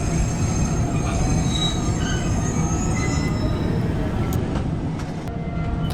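A Pakistani express train running between Lahore and Multan slows toward a stop, its wheels squealing loudly and continuously on the rails over a heavy rumble of railcars, heard from on board with no talk.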